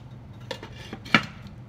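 A metal lid set onto a pot of Guatemalan chicken stew, a couple of light clinks followed by one sharper clank, quiet and close.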